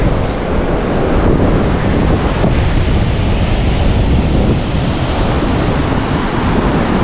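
Surf breaking steadily on the beach at Karon, Phuket, Thailand, with wind buffeting the microphone, a loud continuous wash lasting throughout with no talk.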